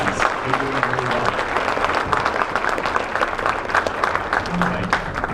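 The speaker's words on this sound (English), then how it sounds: "Give them more of a round of applause." Sustained applause from a school audience for a middle school orchestra, dense steady clapping with crowd murmur and some voices mixed in throughout.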